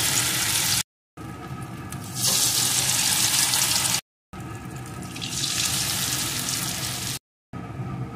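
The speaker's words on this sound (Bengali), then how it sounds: "এখন আমি একটা একটা করে যে বড়ার আকারে গড়ে রেখেছিলাম সেটাকে একটা একটা করে এইভাবে দিয়ে দেব" Sajne flower pakoras dropped one by one into hot oil, a loud continuous sizzle that swells as each piece goes in, broken by short silent gaps.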